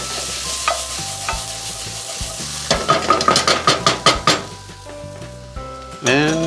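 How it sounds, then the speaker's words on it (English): A spoon stirs garlic and onions in a pan with a steady low sizzle beneath, marked by a run of sharp, rhythmic scrapes and clinks against the metal that ends on a louder knock. "we're going to add our garlic to our onions. And give this a nice stir."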